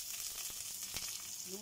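Onion fries in a pan for sinigang with shrimp. A soft, steady sizzle with a couple of faint stirring taps sits close and alone, fairly quiet overall.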